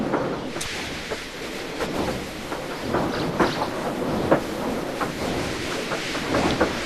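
Faint rumbling and clanking of a steam engine shunting railway trucks at a harbour, with scattered knocks and a soft background hiss.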